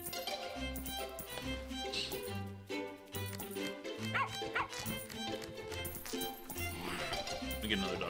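Dog barking in the video game Plantera, with repeated yipping barks and whimpers mixed into game music and sound effects, heard alongside someone talking.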